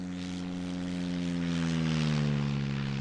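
Simulated Cessna 152 engine and propeller from the Aerofly FS2 flight simulator, a steady droning hum with a slight rise in pitch, continuous and fairly close.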